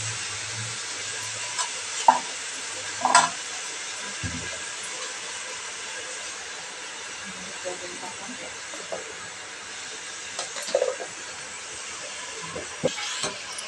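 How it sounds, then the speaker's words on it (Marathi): Vegetables sautéing in oil with cumin, turmeric and salt for pav bhaji, a steady broad hiss of frying with occasional louder clanks and stirring scrapes, no one talking. "आपण आता ह्या भाज्या तेलामध्ये चांगल्या परतून घेणार आहोत"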